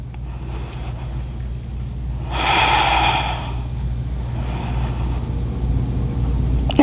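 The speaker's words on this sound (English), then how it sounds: "Breathing in here." A deep, audible breath drawn during a slow-flow yoga session, a broad airy swell lasting about a second, close and alone over a steady low room hum.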